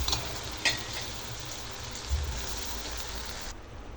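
A spice tempering frying in a pan: an even, close hiss of sizzling oil with a couple of soft knocks, ending abruptly near the end.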